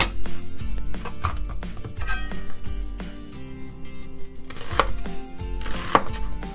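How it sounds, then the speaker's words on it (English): A knife cuts an onion lengthwise on a board for stir-fried eggplant, giving a run of close, fairly loud chops and knocks in an uneven rhythm, with a couple of sharper clinks near the end. "I'm going to cut it in the long side to match with the eggplant cut"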